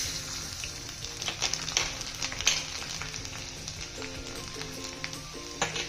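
Garlic frying in hot oil with cumin, asafoetida and turmeric, a steady close sizzle with faint crackles and a few soft stirring clinks, alone without talk.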